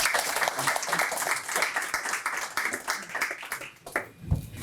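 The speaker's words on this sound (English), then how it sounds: "So can we please give Angela a round of applause?" An audience at a data science talk on manufacturing applauds Angela, with many hands clapping at once. The sound swells and thins unevenly, then tapers off near the end as the clapping fades.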